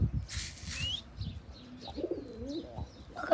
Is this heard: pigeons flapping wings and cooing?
yes